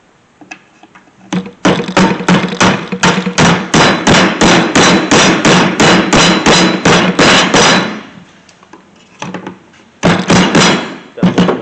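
Wooden dowels hammered into a wooden box during assembly, in a long run of rapid, evenly spaced loud blows close by, a short pause with lighter taps, then another quick burst of strikes.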